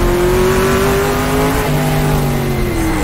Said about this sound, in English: Can hear some cars maybe behind me.